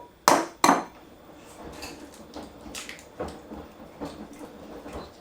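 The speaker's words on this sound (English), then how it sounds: "The whole egg going in." Two sharp cracks in quick succession as a whole egg is broken on a bowl's rim while making Jammie Dodger biscuit dough, followed by softer clinks and taps of bowl and shell, close and clear.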